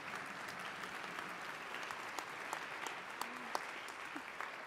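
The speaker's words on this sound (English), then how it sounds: "Can I please ask for a big round of applause for my panelists?" A round of applause for panelists at the end of a conference session, steady distant clapping from a hall audience, faint and even, with a few sharper individual claps standing out.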